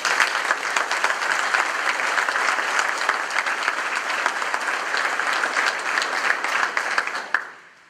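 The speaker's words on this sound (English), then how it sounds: "Please join me in a round of applause for all of them." Sustained applause from a seated audience at a military change-of-command ceremony for Joint Task Force North, dense and steady for about seven seconds before tapering off abruptly at the end.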